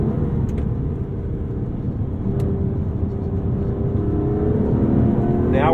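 An Aston Martin DB11 with a 600-horsepower V12 engine drones steadily and loudly from inside the car on an open road, rising slightly in pitch near the end.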